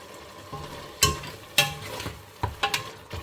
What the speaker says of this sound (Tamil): நல்லா வதக்குவோம் எல்லாம் சேர்த்து